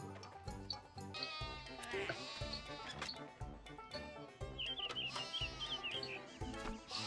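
Sheep bleat repeatedly in RuneScape 3, the ewes' calls sounding in short bursts over a steady, rhythmic game background with faint chirping, fairly quiet overall.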